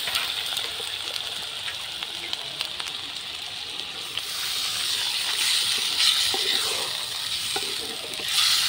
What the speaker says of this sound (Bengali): আমার মাংসটা কষানো হয়ে গেছে। এবার আমি জল দিয়ে দেবো।